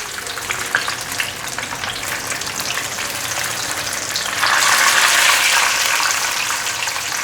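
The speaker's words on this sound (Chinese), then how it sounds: "现在先让它炸定型， 炸定型了，先翻面。" Tofu skin rolls deep frying in oil, a dense, loud crackling sizzle that swells partway through into a brighter, fuller hiss and then settles back.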